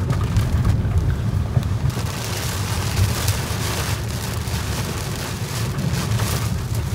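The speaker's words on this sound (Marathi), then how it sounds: "हेवी पाऊस चालू आहे" Heavy rain pours down in a dense, unbroken roar, loud and close, with a deep rumbling undertone and occasional sharper splatters.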